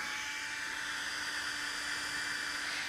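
Cooling fan of an Air Cool hair straightener running steadily, a close, constant airy whoosh with a faint high whine and no other sounds.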